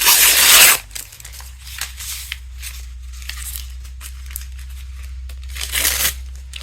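Paper tears in a loud burst at the start as it is ripped for a collage, followed by quieter rustling and scraping, then another tearing rip near the end.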